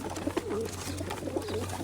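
Breeding pigeons in a loft coo repeatedly at close range, soft throaty rolling calls layered over a steady low hum.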